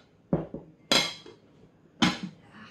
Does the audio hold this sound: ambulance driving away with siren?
no